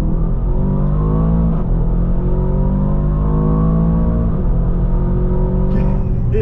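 An Aston Martin DBX 707 engine revs steadily during warm-up, short of full throttle, with rising and falling pitch, loud and close, a throaty continuous drone with no voices.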